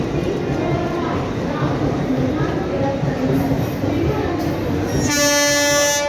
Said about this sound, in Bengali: স্টেশনে আসছে ট্রেন